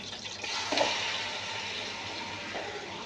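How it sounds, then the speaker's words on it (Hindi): Steady broad hiss of 1 kg of beef frying in hot oil in a karahi over a medium flame, with a faint stir-like swell near the start; close, continuous and fairly even, no talk. "बीफ डालने के बाद बीफ को हम इतना फ्राई करेंगे कि बीफ का कलर चेंज हो जाए"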